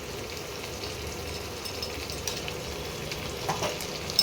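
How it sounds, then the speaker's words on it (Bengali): Ginger and garlic paste with onion and tomato sautéing in a pan, a soft continuous sizzle with occasional spoon scrapes and taps, fairly quiet and close. "এগুলোকে একটু ভালো করে কষিয়ে নিই।"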